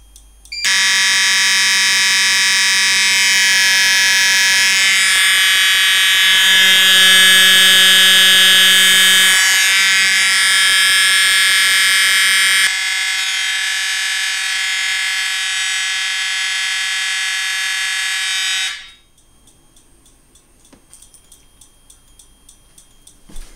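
Potter fire alarm system sounding EST horns, a loud continuous electronic blare that holds steady, shifts tone partway through, then cuts off abruptly, leaving a quiet room.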